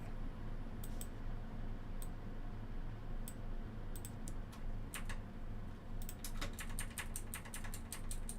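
Typing on an obnoxiously loud computer keyboard while playing Minecraft: sparse separate key clicks, then a fast burst of typing near the end, all over a steady low background hum.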